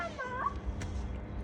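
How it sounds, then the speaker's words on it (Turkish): A street cat lets out a single short meow up close over a low background rumble, followed by quiet outdoor ambience. "Sokakta kediler hemen geliyor."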